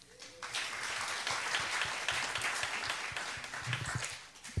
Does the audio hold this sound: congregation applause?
yes